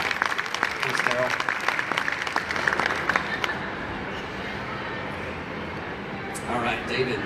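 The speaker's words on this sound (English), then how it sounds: "So let's give him a round of applause." A crowd at a live trucking show event applauds a trucker, with dense clapping for about three seconds that thins out into murmuring room noise and some talk.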